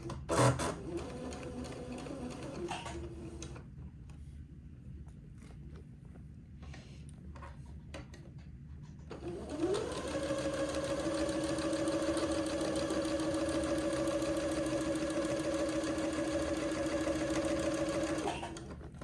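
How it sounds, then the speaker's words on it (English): A sewing machine runs a straight stitch, joining entredeux lace trim to a fabric panel, with a brief stop-start hum at first, then a steady, even mechanical whir for the last nine seconds, close and alone. "So with the straight stitch, I'm going to sew this entredeux to the top panel."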